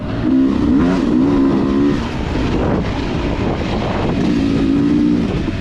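A Beta 300RR two-stroke dirt bike pulls away on a wooded trail, its engine droning and revving unevenly over heavy wind rumble, loud and close.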